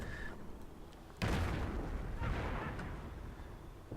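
Distant mortar fire from German Wehrmacht mortars in a World War II strategy video game, with a sudden heavy explosion followed by several rumbling blasts and crackling over a constant battle background.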